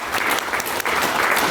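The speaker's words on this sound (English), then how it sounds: "let's just give them a round of applause" Steady, loud round of audience clapping in a lecture hall, continuous and dense throughout with a brief dip partway.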